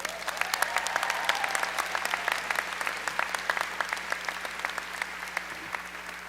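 Enthusiastic audience applause at a 2009 UCLA Economics Department commencement, steady dense clapping from a crowd filling the hall for about six seconds as speaker Alan Bergman is welcomed.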